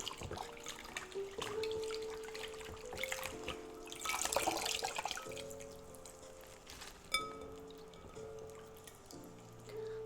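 Tap water runs steadily into a kitchen sink as greens are rinsed under it, a continuous trickling splash with a louder gush midway and faint clinks near the end, no talk.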